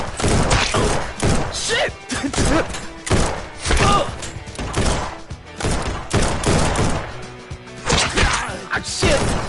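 Rapid gunfire and impacts from the VR shooter Guns n Stories: Bulletproof come in dense bursts of sharp cracks and thuds with brief pauses, while a player swears briefly over the din.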